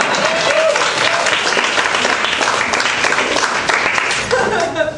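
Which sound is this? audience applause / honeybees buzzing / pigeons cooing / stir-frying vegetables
audience applause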